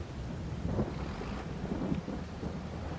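Steady rain with low rolling thunder in the farming video game Farming Simulator 22, a continuous wash of rainfall punctuated by deep rumbles, with no talking.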